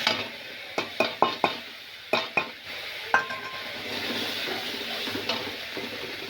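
A ground ginger, cumin and chilli spice mix fries in a pan for a fish and cauliflower curry, with a run of sharp metal spoon clinks and scrapes against the pan over a rising, steady sizzle.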